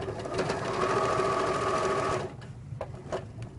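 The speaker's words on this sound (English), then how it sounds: "I'm going to sew just a 1/4 of an inch seam" A sewing machine runs a quarter-inch seam on a jelly roll quilt, a close, steady mechanical whir for about two seconds, then it stops, leaving soft handling noises.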